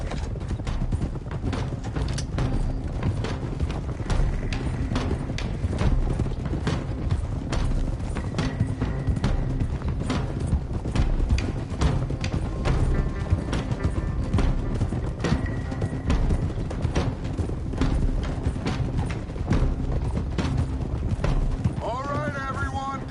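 Horses trotting in Red Dead Redemption 2, steady clip-clop of hooves running throughout under a dense game soundtrack of music and ambience, with voices talking over it.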